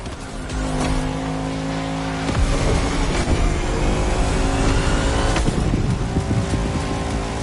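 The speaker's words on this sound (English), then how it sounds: "These cars are both able to reach insane speeds." Race cars in The Crew Motorfest roar and accelerate loudly, engines rising in pitch through shifts with a sharp whoosh passing by, sustained and close with no speech.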